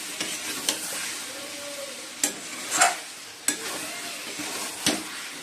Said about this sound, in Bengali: আলু পেঁপে ভাজা হয়ে গেছে।